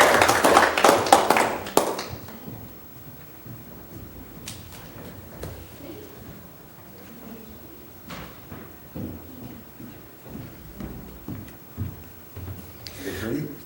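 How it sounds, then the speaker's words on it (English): A dense burst of audience applause at a community board meeting honours a long-serving member. It fades out after about two seconds, and quieter talk and scattered small taps follow. "Give her a round of applause, please."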